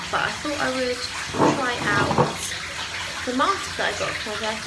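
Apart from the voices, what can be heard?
bathtub filling with running water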